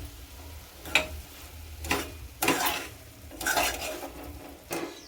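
Cooked yellow cauliflower sabzi with fresh coriander is tossed in a pan, each of several stirring strokes making a scraping, clattering burst over a faint underlying sizzle, at a loose rhythm of about one per second.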